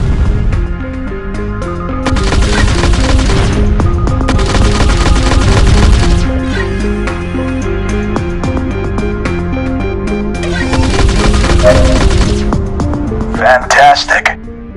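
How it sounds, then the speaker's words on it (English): Spaceship energy cannons in the PlayStation VR space shooter End Space fire in rapid repeated bursts, loud and close over a constant droning soundtrack. "Pull the primary fire trigger to fire the energy cannons."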